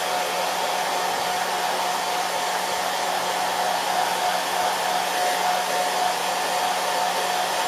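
A hair dryer blowing continuously on a puppy's ear fur after its bath, a loud, steady, close-up whoosh with a constant motor whine and no pauses.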